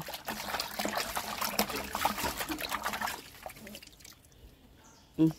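Rainwater trickles and splashes steadily into a collecting container, a dense wet patter that fades out, followed by a brief voice at the end.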